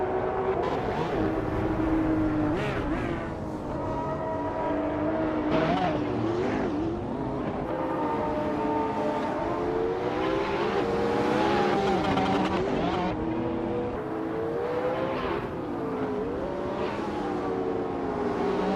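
A 2019 Zenvo TS RS race car in a racing video game howls through repeated rising and falling revs as it shifts gears, with brief tire squeals, steady and close for the whole stretch.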